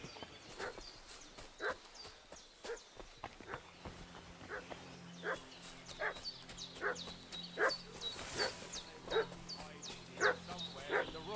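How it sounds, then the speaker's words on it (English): A dog barks repeatedly and fusses in the medieval video game Kingdom Come Deliverance 2. The barks are short and sharp and come at an uneven rhythm, moderately close, over outdoor ambience with a faint low drone. "What's that dog making such a fuss about?"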